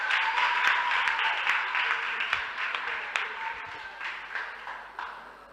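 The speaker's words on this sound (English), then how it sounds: "Okay, clap for her now" Audience clapping for a student at a school debate, a moderate patter of hands with a few sharper individual claps, fading gradually toward the end.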